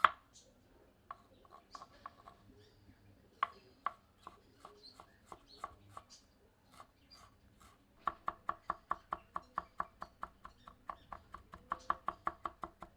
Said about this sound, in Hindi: 50 ग्राम अदरक को बारीक काट लेते हैं।